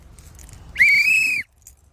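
A single sharp whistle blast, loud and steady for about half a second, cutting through quiet road noise during a police traffic stop, with no talking over it.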